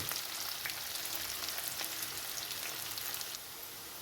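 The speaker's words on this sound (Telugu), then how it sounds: "ఇక్కడ కొంచెం దోరగా వేగాలి." Onions frying in a pan for aloo poori curry give a continuous soft sizzle with fine crackling, steady and fairly close, easing slightly near the end with no talk.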